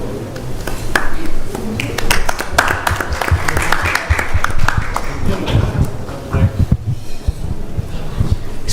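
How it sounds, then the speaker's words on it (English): Audience applause at an ISKCON temple Sunday evening program in Phoenix, a dense wash of clapping from many hands that continues throughout, mixed with voices talking and cheering in the room. "Give her a big round of applause"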